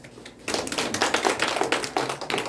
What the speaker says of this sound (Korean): 그럼 박수 한번.